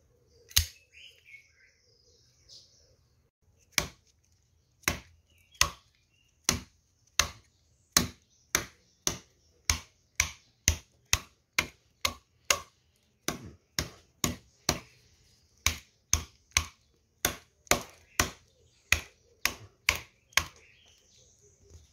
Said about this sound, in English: I wanted to show you videos where I chop through things